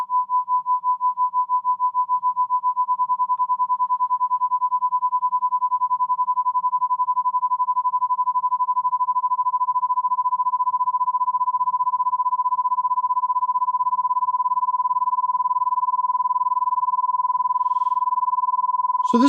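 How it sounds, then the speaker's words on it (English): A steady pure test tone near 1 kHz pulses with fast amplitude modulation, its loudness rising and falling rapidly and evenly for about nineteen seconds with a faint low hum beneath and a brief click at the end. "So twice per second, we're getting this amplitude modulation."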